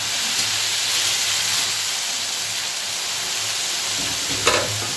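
Ridge gourd frying in a pan with turmeric and dried red chillies, a loud continuous hiss of sizzling oil with soft stirring and one brief clatter of the spoon near the end.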